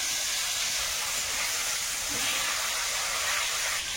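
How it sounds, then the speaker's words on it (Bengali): Snakehead fish frying in a pan during outdoor village cooking in the Sundarbans gives a steady, bright sizzling hiss that holds evenly throughout, with no voices over it. "ওদিকে মাছ ভাজা হচ্ছে"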